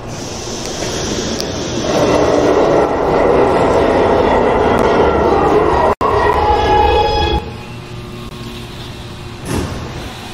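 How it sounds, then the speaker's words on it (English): A Brooklyn-bound A Express subway train rumbles loudly through a New York station for several seconds, then the roar drops to a quieter hum with a brief clank near the end. "especially when trains are entering and leaving the station."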